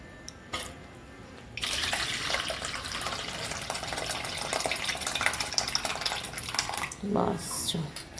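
Water pours over soaked lentils to rinse them for dal vada, a steady rushing splash that starts after a brief knock. A short slosh near the end suggests the water being tipped out.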